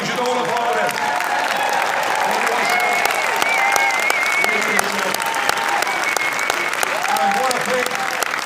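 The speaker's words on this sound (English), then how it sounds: "we should all applaud him" Sustained audience applause at a CPAC conference hall, a steady dense wash of clapping from a large crowd lasting the whole stretch with faint cheering mixed in.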